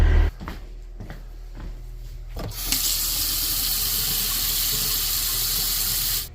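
Water gushing from a broken water line, a sudden loud rushing spray that bursts in after a few quieter knocks and holds steady as a continuous hiss before cutting off.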